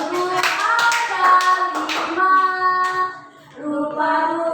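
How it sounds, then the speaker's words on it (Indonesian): A group claps together in a burst of applause, the claps mixed with sustained young voices singing or calling out, close and fairly loud. "Tepuk tangan untuk Ada"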